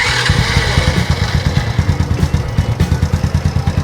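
Motorcycle starter motor cranking when wired directly through a horn relay, a steady loud mechanical whir with rapid rhythmic pulses and clatter, running continuously without speech.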